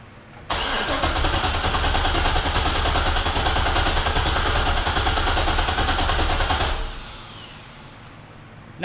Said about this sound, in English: so now we're about to fire it up and see what happens